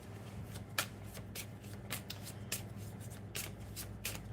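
A rune deck is shuffled by hand, with a series of soft, crisp card riffles and snaps at uneven intervals over quiet room hum. There is no talking.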